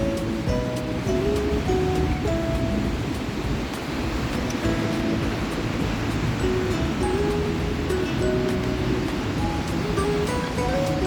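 Rushing river water flows between mountains and rocky cliffs below Vasudhara waterfall, a steady loud broadband roar that runs unbroken and close throughout with no voices.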